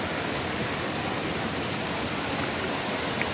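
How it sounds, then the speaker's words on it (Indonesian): Clear mountain river water rushing steadily, a dense, even wash of flowing water filling the scene without pause. "Nah, inilah sungainya ya. Airnya yang cukup jernih."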